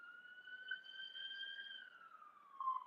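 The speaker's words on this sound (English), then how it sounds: "Hear the sirens?" A distant siren wails in long steady tones, slowly dropping in pitch toward the end, with no voices around it.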